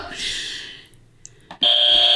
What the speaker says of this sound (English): He just likes the buzzer.